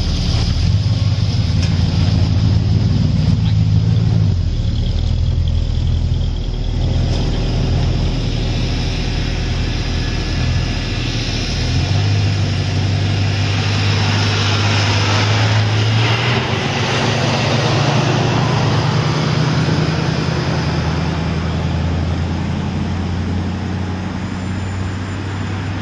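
A 1964 Ford Galaxie patrol car in Mayberry, North Carolina drives along with a loud, steady low engine drone, its pitch shifting slightly partway through, heard close and alone.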